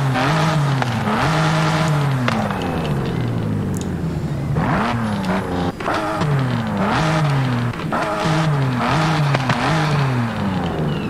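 Revving car engine in the racing game Forza Horizon 5, a 2-litre setup, rising and falling through repeated loud rev sweeps and gear changes over about eleven seconds, with no talking.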